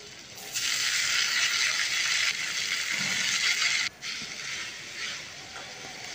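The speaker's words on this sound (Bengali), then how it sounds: "আবারও একটু জল দিলাম" Water goes into a hot pan of onions for a Bengali egg curry, setting off a loud, steady hiss that drops out briefly and then continues slightly softer.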